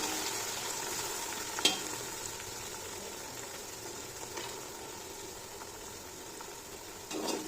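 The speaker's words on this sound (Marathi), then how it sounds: "आता मिरचीचा आवाज फटफट येऊ लागला की आपण पुदिना टाकू" Green chillies frying in hot oil on a home stove: a steady close sizzle with occasional small sharp crackles and pops, alone with no talk.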